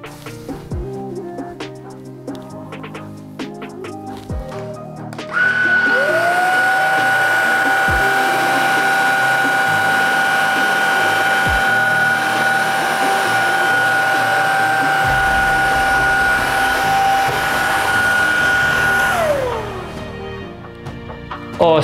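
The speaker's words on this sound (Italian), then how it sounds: "Proviamo ad aspirare del caffè." A Greenote GSC50 cordless vacuum cleaner sucks up coffee from the floor. Quiet handling clicks come first, then the motor spins up to a loud, steady whine, runs for about fourteen seconds and winds down.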